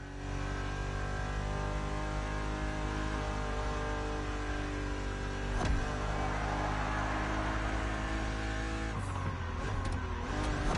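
A BMW Z roadster engine drones steadily in The Crew Motorfest racing game, a sustained harmonic hum with a brief sharp click midway, then the tone shifts near the end.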